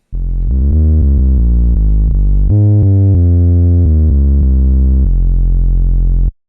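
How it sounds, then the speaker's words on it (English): Deep synthesized 808 bass notes made from a filtered square wave play in a sequence, loud and sustained, with a booming low tone and a slightly buzzy edge, changing pitch between notes. "Is literally just a filtered square wave."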